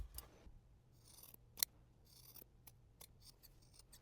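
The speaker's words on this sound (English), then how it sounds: "I'm going to grade each seam down so it's about half the original width, or around 1/4 of an inch" Scissors snip through fabric seam allowances while grading the seams of a quilted tote bag, giving several quiet, separate cuts with one sharper snip near the middle.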